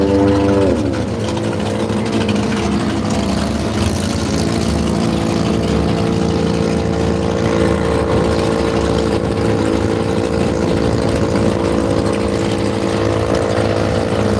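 A Mazda RX-7 drag car's rotary engine idles loud and close at the Willowbank drag strip, a steady, rough, harmonic drone after a brief early shift in pitch, with no voices.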